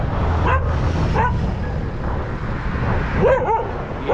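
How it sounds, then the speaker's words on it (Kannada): A dog barks in short, sharp yips, a few spaced barks followed by a quick double bark, over a steady rumble of traffic nearby. "ಯಾರೇ ಬೊಗಳ್ತಾ ಇದೆಯಾ?"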